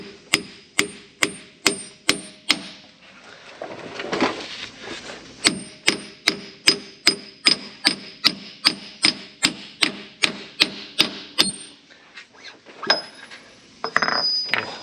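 Repeated sharp metallic taps seat a wheel bearing inner race onto a spindle, struck in steady rapid runs with a short pause near the middle and a few scattered final hits, close and alone.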